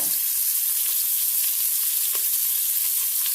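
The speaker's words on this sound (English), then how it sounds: "we'll let this have a quick sear" Meat sears in a Pampered Chef Quick Cooker with a steady, loud sizzle that holds evenly throughout, broken by a few faint clicks, and no one speaks.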